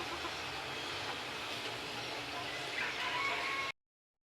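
Heritage chickens in a backyard coop, with a rooster's crow rising faintly over steady broadband barnyard noise near the end of the short stretch.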